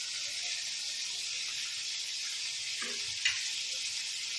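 Crushed red chili and black pepper fry in a pan with a soft, steady sizzle and hiss, broken by a couple of light stirring scrapes near the end.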